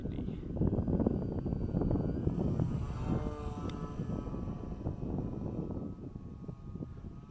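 A modified Purple Tundra model airplane flies loops on a windy day, its small electric motor whining in rising and falling pitch as it passes, over steady wind buffeting.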